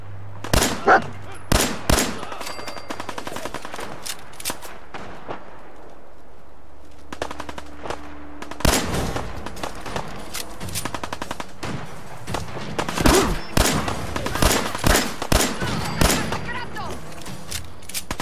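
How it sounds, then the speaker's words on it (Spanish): Bursts of rapid gunfire in the video game Fallout 4 crack out in clusters, with a quiet lull midway before heavy volleys of shots return, loud and close. "Por aquí se escuchan tiros."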